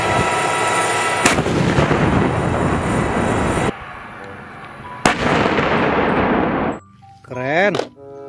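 Toy steel tank firing effect: heavy booming blasts with sharp cracks near the start and midway, each followed by a long rumbling roar, then a short warbling whine at the end.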